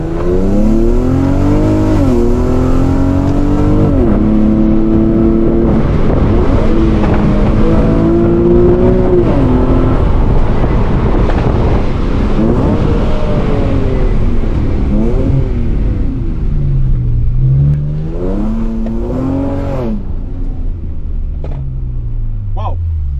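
An Infiniti Q-series car revs and accelerates hard through Shiftronic manual gear changes, the engine pitch climbing and dropping with each shift, loud and continuous from inside the cabin, with a little talk underneath.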